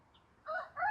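Chickens on a poultry farm, with birds perched in trees, give short bright calls in two quick bursts after a faint chirp, close by and fairly loud.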